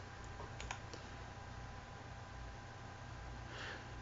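Typing on a computer keyboard: a short burst of quick, faint key clicks near the start, then a few more taps, over a steady low hum, with no talk.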